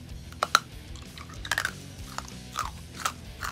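Crunchy chewing of spicy Finnish candy, close to the mouth, with several sharp bites and crunches spaced irregularly over a low background hum, no talking.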